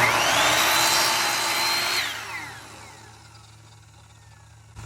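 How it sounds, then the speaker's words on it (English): A power saw cuts the outer kerfs of a lap joint in wood for a fence gate, a loud close whine for about two seconds that then winds down as the blade spins to a stop. "So I'm going to cut the first two, or my outsides of my lap joint first."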